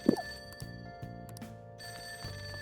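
A telephone rings in the Persona 5 Royal video game: a quiet electronic ringing pulses repeatedly over a soft looping musical background.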